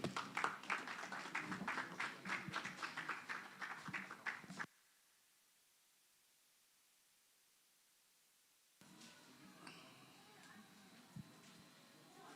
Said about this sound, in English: please help me make welcome Mr. Babajide. Okay. So, yeah. All right,